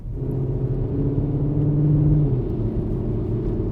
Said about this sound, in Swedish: Den gurglar på och accelererar som en gammal jänkare.